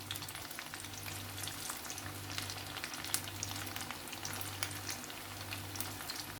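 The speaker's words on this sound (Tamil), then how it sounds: "இந்த எண்ணெயோட கொஞ்சம் சலசலப்பெல்லாம் கொஞ்சம் அடங்கினதுக்கப்புறம் நம்ம திருப்பி போட்டுக்கலாம்" Batter-coated baby corn fritters frying in hot oil, a soft, even bubbling crackle that carries on steadily at close range, with a low pulsing hum repeating underneath.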